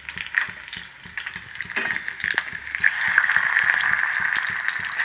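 Ginger garlic paste frying with sliced onions in a pan, a steady close sizzle that thickens and grows louder toward the end, with faint stirring scrapes and clicks underneath.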